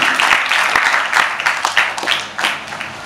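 Loud, enthusiastic applause from an audience at a felicitation event for cancer student patients, with sharp individual claps standing out in the crowd's rhythm and the loudness swelling and dipping, and no speech over it.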